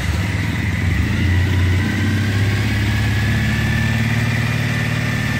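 A Triumph Thruxton motorcycle engine idles with the fast idle off, a loud, close, steady mechanical thrum with an even low pulse and no voices.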